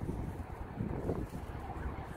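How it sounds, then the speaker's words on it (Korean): Strong wind gusts outdoors at night, a steady rough roar and buffeting close on the microphone, continuous and fairly loud with no voices. "바람이 엄청 많이 불어"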